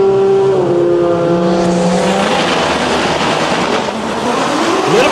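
Bright pink Nissan GT-R drag car roaring down the drag strip, a loud sustained engine note climbing through gears with shifts, heavy crowd and track ambience throughout.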